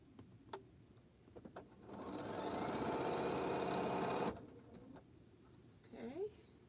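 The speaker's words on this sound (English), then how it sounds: "I'm sewing on the 770" A Bernina 770 Quilters Edition sewing machine stitches in a steady, fast whirring run lasting about two seconds, framed by brief handling clicks and a little quiet talk before and after.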